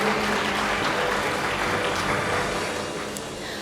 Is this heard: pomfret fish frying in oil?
no